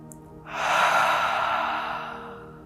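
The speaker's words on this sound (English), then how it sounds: "let's inhale through the nose and exhale out the mouth" A slow, deliberate breath drawn in through the nose and then released through the mouth in one long, close, airy exhale that swells and then gradually fades.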